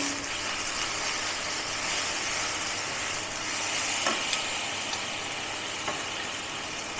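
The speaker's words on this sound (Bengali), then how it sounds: "একটু চিকেনটাকে ভেজে নেবো" Chicken frying in a pan with garlic and green chilli gives a steady, broad sizzle and hiss throughout, close and fairly loud, with a few faint clicks of stirring or utensils.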